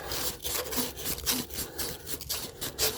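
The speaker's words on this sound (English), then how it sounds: "I'm going to sand these just a little bit." Steady rhythmic scratchy rubbing of 400-grit sandpaper against a 17-year-old PVC irrigation pipe, repeated back-and-forth strokes, close and fairly loud, no talking.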